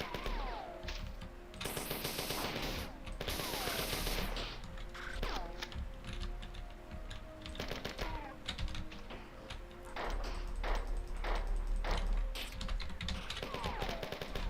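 Rapid rifle fire from enemies in the 1990s Bungie shooter Marathon, dense rattling bursts of automatic gunfire almost continuously over game music and effects, loud and close.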